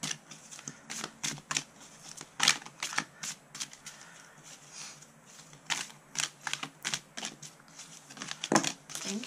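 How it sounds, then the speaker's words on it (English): Oracle cards from an Enchanted Map deck being shuffled by hand, a quiet run of crisp papery riffles and taps in short irregular bursts, close up, with no talking. "we will shuffle the cards and get one to pop out"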